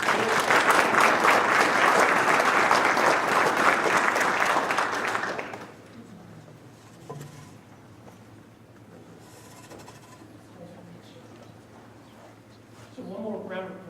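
Applause from an audience at a community service council meeting, a dense burst of clapping for about five seconds that then cuts off, leaving quiet room noise and a voice starting to talk near the end.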